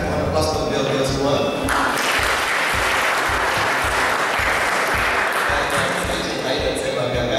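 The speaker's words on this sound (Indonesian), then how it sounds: "mohon aplaus untuk beliau-beliau semua" Seminar audience applause fills the room with dense, continuous clapping at close range, holding steady for several seconds.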